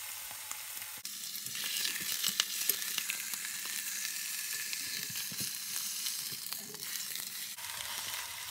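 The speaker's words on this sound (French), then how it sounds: "on va faire colorer la surface de notre gigot dans la cocotte" A leg of lamb sears in a cast-iron pot, giving a close, steady sizzle with sharp crackles and spits throughout and no voices.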